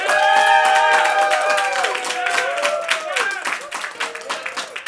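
A comedy roast battle audience in New York claps and cheers, loud at first and tapering into scattered individual claps, with shouted voices over the applause.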